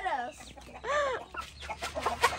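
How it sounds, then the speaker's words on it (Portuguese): Naked neck rooster and hens clucking while eating corn in a backyard, a few close, drawn-out clucks and short calls mixed with people talking nearby. "Olha o galo do pescoço pelado."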